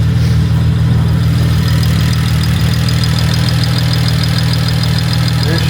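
Loud, steady rumble of a six-cylinder car engine idling as it warms up after sitting for months, a continuous low grumble with a faint rhythmic tick running through it.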